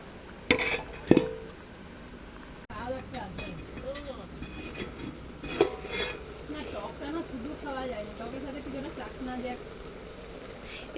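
A metal lid clinks onto a pot of bottle gourd leaves with garlic and salt, two sharp clanks near the start followed by softer kitchen clatter and scraping while someone talks.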